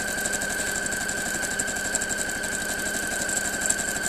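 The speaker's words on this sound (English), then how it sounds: "we're going to sew down this side here" Sewing machine stitching steadily along one side of a half square triangle patchwork block, a fast even mechanical clatter with a constant whine, close and alone without talk.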